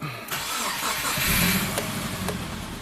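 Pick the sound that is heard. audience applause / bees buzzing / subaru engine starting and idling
subaru engine starting and idling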